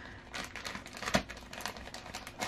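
A large pile of stickers poured into a container, giving a close, crinkly rustle of light paper and plastic pieces with scattered small ticks and one sharper clack, fairly quiet and without speech.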